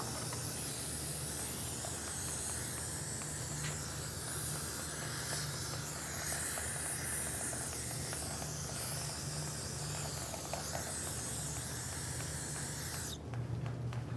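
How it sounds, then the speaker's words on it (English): Brake parts cleaner sprays from an aerosol can in a continuous loud hiss, held steadily for over ten seconds in a garage during a Toyota RAV4 rear CV axle job, with a brief pause near the end. "Just get a little brake parts cleaner, clean it up."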